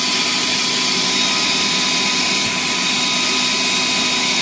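A ToAuto PCP air compressor's bleed valve releases air in a loud, continuous, steady hiss over the hum of the running machine, with a brightening change in tone partway through.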